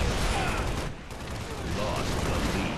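Assault rifle gunfire in a fast-paced multiplayer shooter video game, dense bursts of rapid shots rattling continuously at close range and loud throughout, with a brief dip in the middle.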